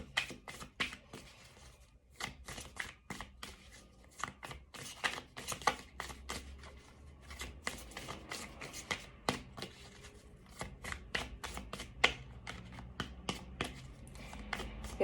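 A deck of stiff, resistant tarot cards being shuffled by hand: a dense, steady run of quick papery riffles and taps that continues close and clear for the whole stretch, with no talking.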